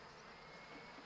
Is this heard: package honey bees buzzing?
yes